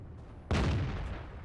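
A single tank cannon shot in World of Tanks, fired blind at an enemy sitting in base: a sudden loud boom with a sharp attack that rings out and decays slowly, no talk over it.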